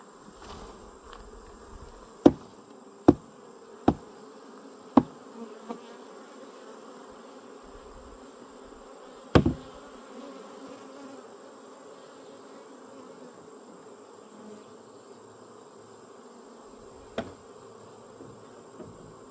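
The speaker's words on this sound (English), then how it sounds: "get these bees smoked down a little bit" A steady drone of bees buzzing around a hive, with occasional sharp clicks and knocks scattered through.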